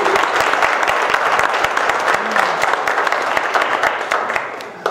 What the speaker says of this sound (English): he needs a really big round of applause